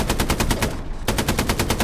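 Rapid, loud bursts of machine gun suppression fire in the World War II shooter Hell Let Loose, a dense run of shots with a brief gap before the firing resumes.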